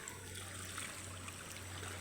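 A river where people bathe flows with a steady, soft rushing and trickling, continuous and fairly quiet, with no voices.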